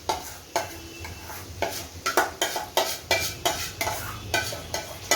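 Eggplant goes into cooking masala for Punjabi-style baingan bharta and is stirred, producing repeated rhythmic scraping strokes of a spoon against the pan over a low sizzle, close and fairly loud, with no talking.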